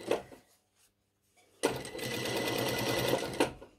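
Close-up domestic sewing machine stitching a 1 mm pintuck in fabric: a short burst, a pause, then a steady rapid whirring run of about two seconds that stops abruptly.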